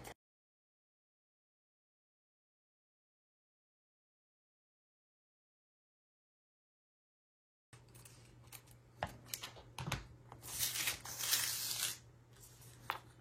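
Scissors trim a thin paper cutout for a scrapbook page, a cluster of close, crisp snips and papery rustles arriving after a long stretch of silence.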